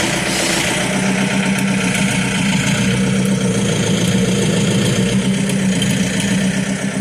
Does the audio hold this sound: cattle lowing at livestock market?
no